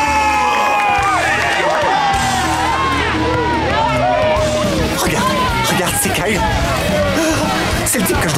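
A studio audience on the TV show Henry Danger cheers and applauds loudly as a wanted villain is introduced. There are continuous whoops, high shouts and crowd roar at full volume throughout, with voices mixed in.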